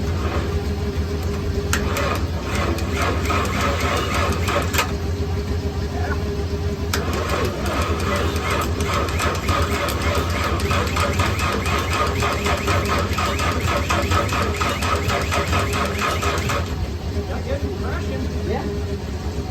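A 2001 Mazda B3000 pickup engine is cranked over by the starter, giving a loud, steady mechanical whirring and churning that runs close up and unbroken for about twenty seconds.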